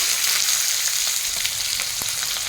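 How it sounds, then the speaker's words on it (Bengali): Capsicum (bell pepper) frying in a wok, a steady bright sizzle with scattered sharp pops and crackles as water spatters in the hot oil, close and continuous with no voices. "এর মধ্যে যে জলটা আছে ফটফট আওয়াজ হচ্ছে"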